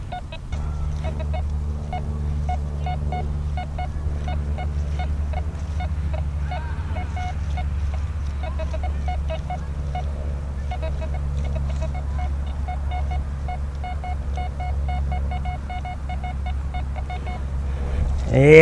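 A Nokta Fors Core metal detector chirps with repeated short high-pitched tones over a steady low hum, with bursts of beeps throughout, as it sounds on a dollar coin target.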